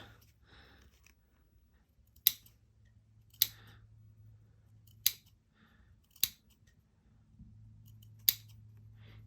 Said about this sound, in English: I'm going to clip around this curve